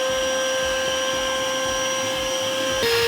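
An Etenwolf Vortex S6 portable tire inflator drones loudly and steadily with a high whine, its pitch dipping slightly near the end.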